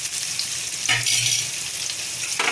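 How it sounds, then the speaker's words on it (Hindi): Onions sizzle in hot oil in a pan on a high flame while a ridge gourd curry is being cooked, a steady loud crackle with a brief stir partway through. "हल्का ब्राउन होने तक हमें फ्राई करना है। हल्का ब्राउन होने तक प्याज को"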